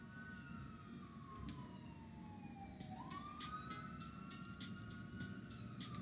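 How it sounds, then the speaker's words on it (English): A siren wails in the distance, its pitch sliding slowly down and then back up, over a steady low rumble of background noise. "Can you guys hear the alarm, the sirens?"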